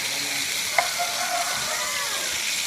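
Quail sizzles steadily on a hot tawa, an even crackling hiss with a single light clink partway through.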